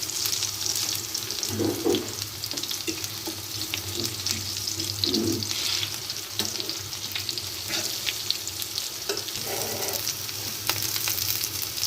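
Boiled potato kababs fry in a pan with a constant close sizzle and hiss, with occasional soft clinks and handling sounds as they are turned.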